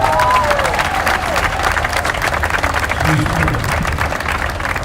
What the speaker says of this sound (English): Give a round of applause for my mother.